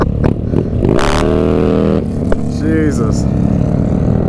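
Harley-Davidson Low Rider motorcycle engine revving hard close by, rising and falling throttle bursts with a rumbling exhaust, while a man exclaims briefly over it.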